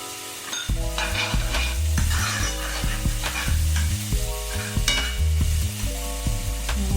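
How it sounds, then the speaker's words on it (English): Garlic and onions fry in a pan, a steady close sizzle layered over prominent low tonal music, with occasional soft stirring scrapes. "Garlic and onions cooking beautifully."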